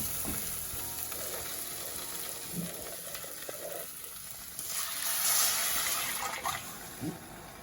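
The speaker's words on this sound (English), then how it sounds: "and then we're going to add 1 cup of water." Curry lentils sizzling in a pan as water is poured in, a steady frying hiss with splashy bursts and faint clinks, growing louder near the middle, with quiet voices in the background.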